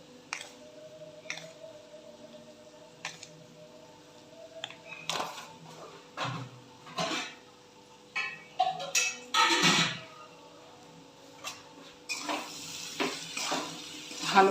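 Spices with Kashmiri red chili powder and salt being fried and stirred in a pan while splashes of water are added: repeated wet squishing and scraping strokes in irregular bursts, with faint sizzling and utensil taps against the pan.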